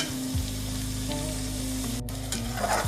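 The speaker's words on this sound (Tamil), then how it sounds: "இது இந்த நெய்யிலே வந்து ஃப்ரை ஆகட்டும்." Red onions frying in ghee in a pan for mutton biryani, a steady close sizzle with light stirring throughout, no voices.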